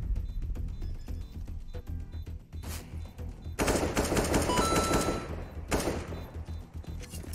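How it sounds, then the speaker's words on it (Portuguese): Rapid bursts of automatic gunfire in a video game, likely Counter-Strike, crackle and pop in quick succession, loud and sharp, with heavier volleys in the second half. "Não acredito que o Henrique acertou esse tiro."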